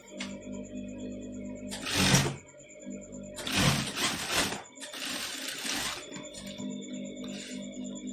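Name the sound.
sewing machine stitching a half-inch seam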